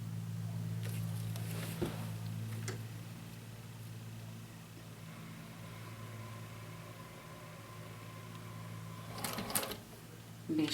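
A sewing machine runs steadily while stitching the interior seam of a tote bag, a low, even motor hum with faint mechanical ticking and a few clicks near the end, fairly quiet and without talk.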